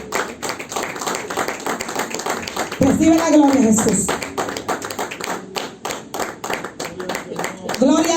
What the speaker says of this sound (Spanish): Denle el aplauso al Señor, gloria a Dios.